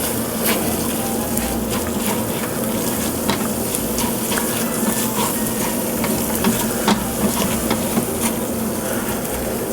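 Chorizo and flour cooking in a pan over medium heat, giving a steady, dense crackling sizzle with small pops throughout, close and even in level, no speech.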